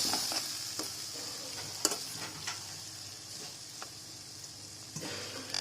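Arbi (taro root) curry with salt and chili being stirred in a hot pan, a steady sizzle beneath scraping strokes and occasional sharper clicks of the spoon against the pan, continuous and fairly quiet with no talking.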